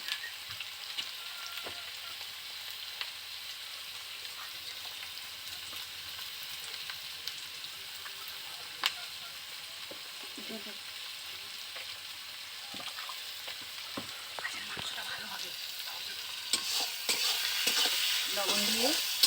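Onion and tomato frying in a pan for a village chicken curry, a soft continuous sizzle with a spatula scraping and stirring now and then, the sizzling growing louder toward the end.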